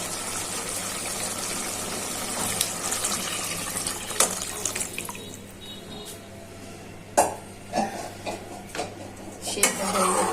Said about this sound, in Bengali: এখন ঝোল দিয়ে দিচ্ছি